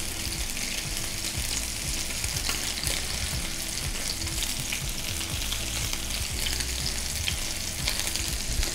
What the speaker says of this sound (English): rest my salmon right into the oil. And that's the sound you're looking for